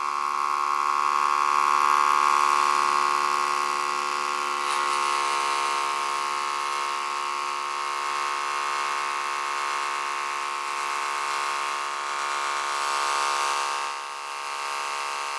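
A StylPro Expert brush cleaner spins a wet makeup brush to dry it, giving a loud, continuous high-pitched whirring hum that holds steady throughout and dips slightly near the end.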